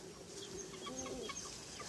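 Chickens clucking softly in a backyard flock with many young birds near a chicken-wire enclosure, a few short clucks and chirps that sound distant and faint, with no talk.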